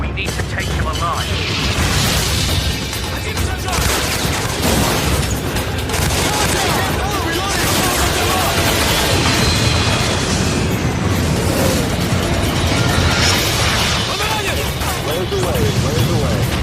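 Heavy combat in Call of Duty: dense, continuous booms, bursts and explosions under sustained gunfire, loud and close throughout, with shouted voices mixed in.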